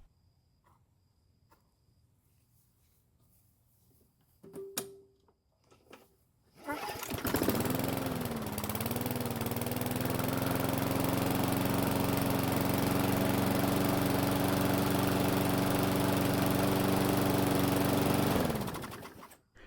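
A used lawn mower engine fires up after a few faint tries and keeps running loud and steady close by, a droning small-engine roar that carries on for about ten seconds before it cuts off.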